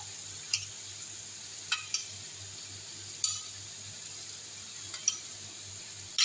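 Soy sauce, garlic and butter sizzle in a pan with a quiet, steady fizz, broken by a few sharp clicks and taps of a utensil against the pan, close and without voices.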